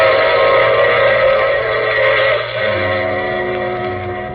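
Train sound effect from an old-time radio drama: a loud, steady rumbling rush with a tonal hum, easing slightly partway through and running alone without voices.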